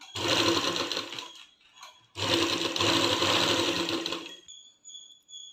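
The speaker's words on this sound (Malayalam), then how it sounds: "ഇനി ഇതിനെ ജോയിൻ്റ് ചെയ്യണം. വേണം അടിക്കാൻ. അടിച്ചെടുക്കാം കേട്ടോ." A sewing machine stitches 3-inch cut pieces of cloth together, running in two close, loud bursts of fast whirring separated by a short pause, followed by faint clicks and a thin tone.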